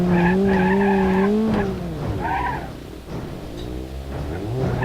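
In BeamNG Drive, a car's bumper catches and drags over bumps: loud squealing scrapes with rising and falling pitch come in several bursts, with a short dip in the middle before the grinding returns.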